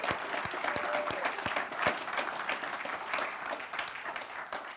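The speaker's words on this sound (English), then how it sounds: "give yourself a warm applause already" An audience of seated finalists and representatives at a university challenge grand finale claps steadily in a hall, a dense, even patter with a few sharper individual claps and no talk over it.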